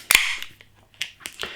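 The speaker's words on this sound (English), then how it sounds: "Nice bit of smoke on the can opening." A beer can snapped open with a sharp crack and brief hiss, followed by a few smaller metallic clicks and taps, close and fairly loud.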